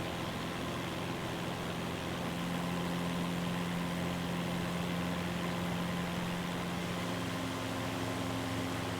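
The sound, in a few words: aircraft engine running in Microsoft Flight Simulator 2024, a video game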